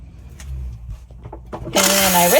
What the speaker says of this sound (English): I turn on the water again.